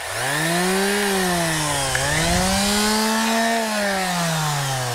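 An old corded Black and Decker power tool runs steadily and loud, its motor hum dipping briefly under load before climbing back, with no talk over it.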